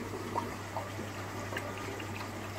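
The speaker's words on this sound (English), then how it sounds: "taking them out of the water" Wooden pleco hides are lifted out of water in a pot, giving faint sloshing and dripping over a steady low hum.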